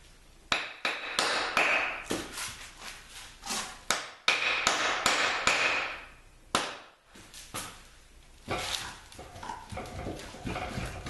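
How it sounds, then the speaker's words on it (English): A hammer taps a Dana 20 transfer case off a T18 transmission on a Jeep drivetrain, giving a series of sharp, irregular metallic knocks in bursts, close and fairly loud. "I'm ready to tap the Dana 20 off of the T18"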